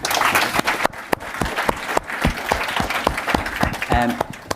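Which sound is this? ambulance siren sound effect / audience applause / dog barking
audience applause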